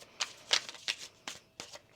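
A deck of tarot cards being shuffled by hand, several quick riffling bursts in a steady rhythm, close and crisp with no talking.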